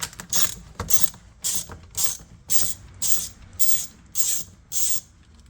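Screws being worked out of the rear undertray of a Mazda ND Miata, heard as a run of about nine short, even ratcheting bursts, close and fairly quiet, with no talking.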